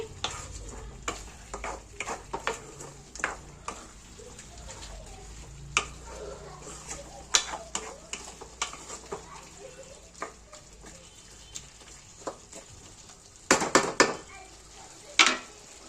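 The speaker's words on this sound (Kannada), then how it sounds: "ಚಿಕನಲ್ಲಿರೋ ನೀರೆಲ್ಲನೂ ಹೋಗೋ ಥರ ಹುರ್ಕೊಂಡು ನೀಟಾಗಿ ಬೇಯಿಸ್ಕೊತಾ ಇದ್ದೀನಿ" Chicken pieces sizzle and fry in a pan while a spatula stirs and scrapes steadily, with the water cooking off; intermittent sharp clacks of the utensil against the pan sound over a continuous hiss.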